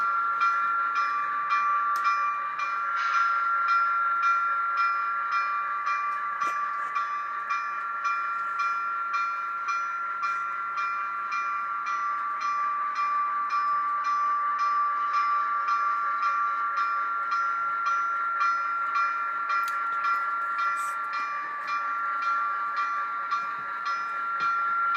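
A train rolls out past the Brooklyn Lollipop Factory and Dean Street Lumber Company, giving a steady sustained tone with a rhythmic clatter over it and occasional brief whistle-like peaks, holding constant and alone throughout.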